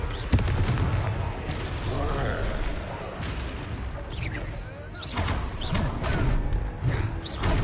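Fiery Confringo spell blasts burst during a Hogwarts Legacy video game duel, heavy booming impacts amid dense combat noise and crackle, with game voices speaking over the fight.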